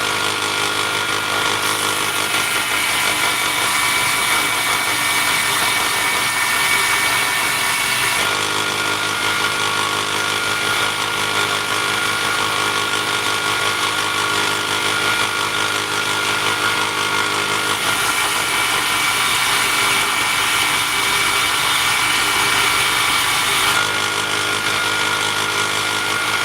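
Loud power tool buffing stone with a 600 grit polishing pad, a steady continuous whine and grind that runs throughout with slight shifts in pitch and load, no talking.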